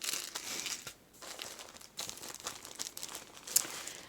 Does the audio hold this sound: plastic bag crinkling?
yes